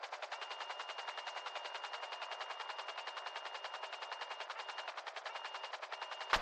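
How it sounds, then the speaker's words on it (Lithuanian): Automatic gunfire on an oil platform sounds as a fast, unbroken string of evenly spaced shots lasting several seconds. It comes through thin and somewhat distant, with no talk over it. "Naftos platformoje šūviai"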